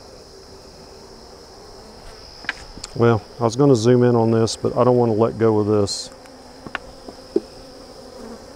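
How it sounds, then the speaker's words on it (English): A hive box packed with a honey bee swarm gives off a constant buzzing hum, heard throughout beneath someone speaking in the middle of the stretch. "Completely full of bees"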